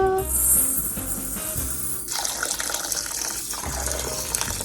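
Water gushes from a tap onto basmati rice being washed in a vessel for mutton biryani, a steady rushing pour that shifts in tone partway through, with background music underneath.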